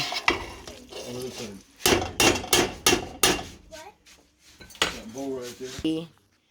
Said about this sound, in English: you just stir constantly